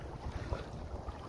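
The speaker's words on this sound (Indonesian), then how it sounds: "Sekarang ni angin pick up." Wind gusting steadily over the sea during kayak fishing off Brunei, a continuous low rumble with buffeting against the microphone and faint water movement beneath, no talking.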